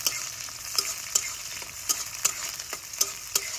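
Onions frying in a pan, stirred now and then, with a steady close sizzle and sharp scraping clicks about every half second and no voices.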